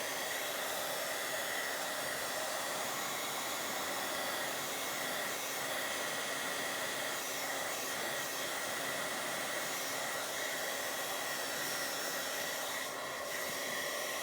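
A hair dryer blows a constant, loud whooshing hiss over freshly decorated envelopes, unbroken and close, with no talking.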